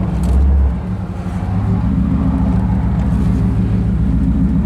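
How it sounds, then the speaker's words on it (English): A 1947 Ford Custom convertible drives along with a steady low engine rumble and road noise, a brief louder surge near the start, then an even cruising drone, no talk. "comfortable car to drive"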